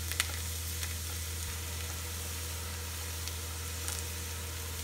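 Onions frying in a pan for mixed dal, a steady even sizzle with a constant low hum underneath and a few faint crackles, close and continuous, with no voices.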